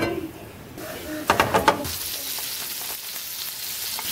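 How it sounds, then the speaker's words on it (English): Pecan-crusted fish hits a preheated hot pan, setting off a bright crackling sizzle after a few quick clatters of handling, then settling into a steady, fainter frying hiss. "And then straight to a preheated hot pan."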